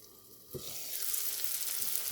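Tuna with soy sauce starts sizzling in a pan after a soft thump about halfway in, then a steady, loud broadband hiss and crackle carries on to the end with no voices.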